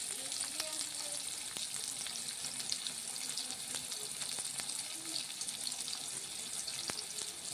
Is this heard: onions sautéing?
yes